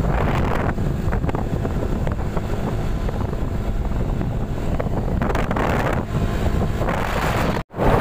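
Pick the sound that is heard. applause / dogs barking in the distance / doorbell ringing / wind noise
wind noise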